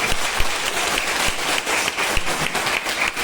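Loud, sustained applause from a seminar audience in Butwal, Nepal: dense, continuous clapping from many hands fills the whole stretch, with no talk over it.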